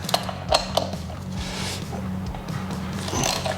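Triple clamp bolts on a 1999 Kawasaki KX250 are loosened with a ratchet, a close run of rapid clicking and zipping ratchet sounds over a steady low background hum, with no talk.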